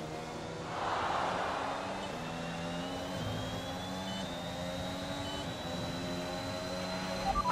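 A race car passes in the F1 2021 video game at the Hungarian Grand Prix on a wet track, a sustained engine whine that swells and shifts pitch as it goes by, steady and fairly loud.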